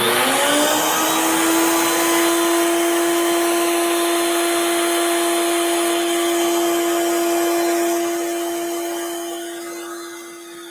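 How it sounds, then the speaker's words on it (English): A router mounted in a router table spins at a steady high-pitched whine, loud and close, then winds down over the last few seconds. "I'm plugging my router in"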